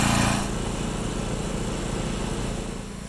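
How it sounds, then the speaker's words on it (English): A job site generator runs steadily at a construction site during a timber frame raising, giving a continuous droning engine hum at close range with no talk over it. "That sound you've been hearing all along has been the generator."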